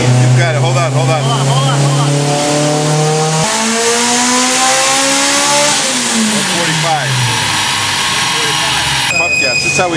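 Car engine revving hard during a front-mount intercooler test run, its rising, sweeping tone climbing through several loud pulls over ten seconds, with voices faintly audible beneath the engine in places.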